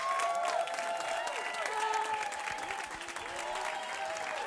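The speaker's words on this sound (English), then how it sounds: "Please give her a round of applause." An audience at an evening gala honoring farmers applauds to welcome the host onstage, a steady wash of clapping with scattered whoops and cheers rising above it, brief voices mixed in.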